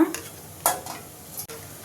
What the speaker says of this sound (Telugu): నూనె వేడిదే కదా ఒక స్పూను ఆవాలు జీలకర్ర వేస్తున్నా